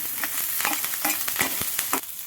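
Green chillies and curry leaves fry in hot tempering oil with mustard seeds and cumin, a close, steady sizzle broken by repeated stirring scrapes and spoon knocks, with no talking.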